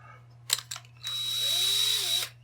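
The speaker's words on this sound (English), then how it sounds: "And also, it does run on a drill." An electric drill spins a StripMeister wire stripper on solid-core wire, giving a steady rising whine that lasts over a second after a few sharp clicks, fairly close with no talk.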